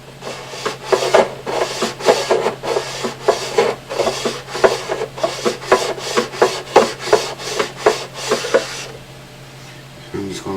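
Fret ends being filed on a Martin 00028 acoustic guitar, steady close rasping strokes of metal file on fret wire in a quick back-and-forth rhythm, about twenty passes, then a brief quieter pause at the end.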